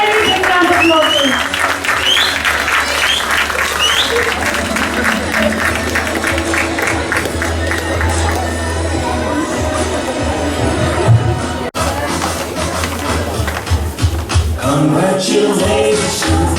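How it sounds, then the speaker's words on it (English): An audience applauds a school class performance, a long steady round of clapping heard alongside music and voices, with the sound shifting abruptly near the end. "A very big round of applause."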